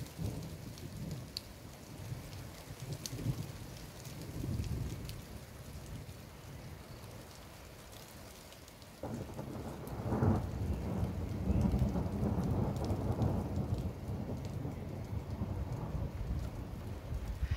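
Soft, steady rain with low rumbling thunder that swells and grows louder midway, the storm heard faintly from a distance.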